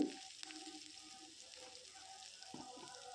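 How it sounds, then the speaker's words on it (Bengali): Dried red chillies and a pinch of asafoetida frying in hot oil in a pan: a quiet, soft sizzle with a few light clicks from a utensil. "তো লঙ্কাটা আমার একটু ভাজা ভাজা হয়ে গেছে"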